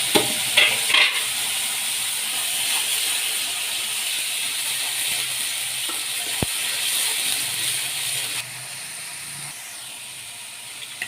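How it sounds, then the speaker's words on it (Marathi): Cumin and onion-tomato paste hitting a hot pan for drumstick vegetable curry, a strong steady sizzle with clinking stirring taps at the start and a sharp clack midway, easing slightly toward the end. "आता आपण घालूया यामध्ये जिरं आणि कांदा टमाटरचा पेस्ट"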